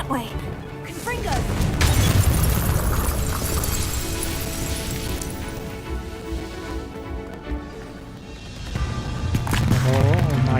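Confringo blasting curse going off in a tunnel in Hogwarts Legacy: a crashing burst, then rumbling debris and mechanical clatter over a sustained music bed, with a second loud surge near the end.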